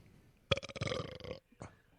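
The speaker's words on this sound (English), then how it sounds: "Did you just completely belch as a response on the show?" A single loud, drawn-out belch lasting most of a second, followed by a brief quieter vocal sound.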